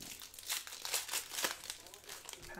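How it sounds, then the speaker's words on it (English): A baseball trading card pack's foil wrapper being torn open, close crinkling and tearing rustles with a person talking over it. "packs are a little bit harder to open in this one"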